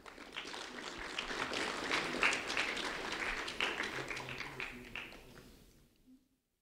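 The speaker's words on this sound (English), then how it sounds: "a round of applause for Antonio, please" Audience applause at a community recognition ceremony, a steady wash of many hands clapping for several seconds at moderate distance before trailing off into quiet.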